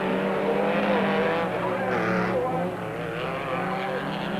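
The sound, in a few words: Ford Courier race truck losing control in a rally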